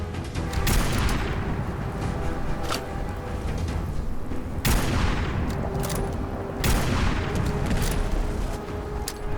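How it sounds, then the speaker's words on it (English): Gunfire rings out in a video game, dense and loud with a few heavy booming blasts standing out over a continuous rumbling barrage, with no talking. "shoot the gun"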